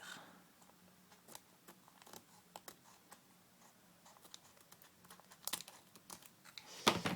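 Crinkly rustling of Japanese Emerald Break card booster packaging opened with small scissors, a few sharp snips and crisp cuts, close up, growing louder near the end; no talking.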